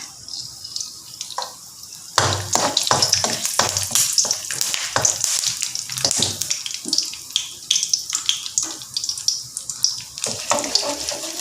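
Curry leaves tossed into hot oil for stir-fried long beans, a sharp burst of sizzling and spattering that starts abruptly and carries on loud and steady, close by, with no talking.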